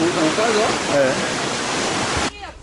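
Water from the melting glacier in Lebanon rushes in a steady loud hiss, with voices talking over it before the flow cuts off abruptly near the end.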